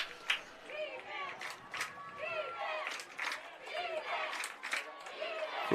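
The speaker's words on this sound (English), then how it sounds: "You're hearing the Nemaha Central crowd, a great crowd tonight, both sides." Home crowd at a Nemaha Central high school football game against Sabetha, both sides of the stadium filled at night, keeps up a steady distant roar and chatter beneath a close announcer's voice.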